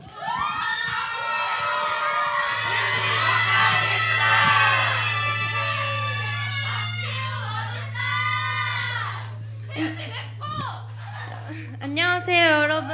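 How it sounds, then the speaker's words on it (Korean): An audience at a student concert cheers and shouts excitedly, loud overlapping voices with whoops and high-pitched yells over a steady low hum, tapering into scattered shouts and speech near the end. "우리 애새기들의 첫 무대인 만큼 큰 박수로 호응 부탁드립니다."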